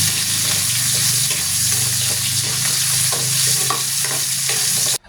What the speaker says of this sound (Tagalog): Isunod naman natin itong sibuyas, pakagisa lang natin ito hanggang sa maging translucent.